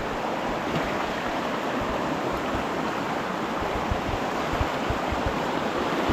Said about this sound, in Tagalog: may maliit na talon yun po oh.